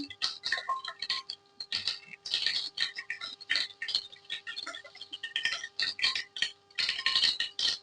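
Mustard seeds crackle and pop in hot oil while tempering for Maharashtrian masale bhat, giving rapid, irregular bursts of sharp ticking that come close and fairly loud.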